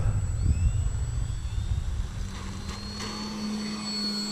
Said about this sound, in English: See, just non-eventful taking off.